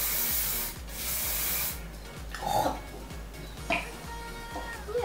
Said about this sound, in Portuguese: Aí eu vou pegar esse spray aqui que o Léo esqueceu em casa